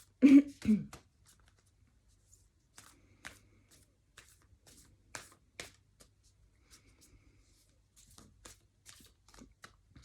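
Tarot cards are shuffled in a quiet series of soft, papery flicks and snaps, with a brief voice-like sound at the start.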